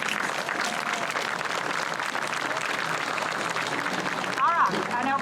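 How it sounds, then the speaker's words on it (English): Applause from an outdoor crowd at a ribbon cutting for the McNabb Center EmPATH facility, a steady dense wash of clapping filling the moment, with a brief voice near the end. "Let's give them all three a round of applause."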